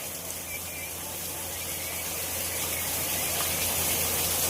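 Steady rain pouring down during a waterlogged day at a rural dairy, a dense continuous hiss and patter that swells slightly louder toward the end, with no speech over it.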